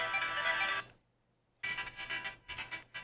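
Bright, tinny, ringtone-like audio plays loudly through a homemade headphone amplifier in two bursts split by a short silence, heard close with no one talking.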